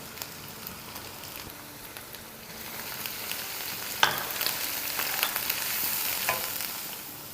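Ground spices (coriander, cumin and turmeric powders) with salt fry in hot oil for rajma, giving a steady close sizzle with occasional stirring scrapes and pops that grow slightly louder midway.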